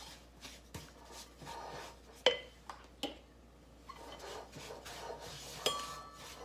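Butter cookie dough being mixed in a bowl, irregular scraping, clinks and taps of a utensil against the bowl, moderately close with quiet gaps between strokes.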